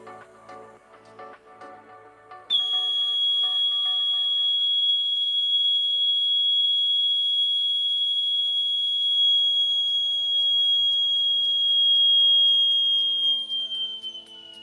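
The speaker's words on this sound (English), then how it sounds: "Watch out, there's gonna be the whistle again." A loud, steady high-pitched whistle starts abruptly after a couple of seconds of quiet clatter and holds continuously, tapering slightly at the end.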